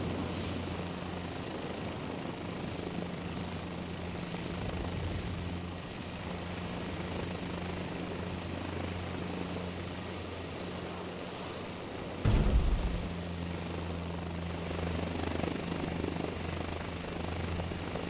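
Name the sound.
helicopter rotor and engine in Microsoft Flight Simulator 2024 video game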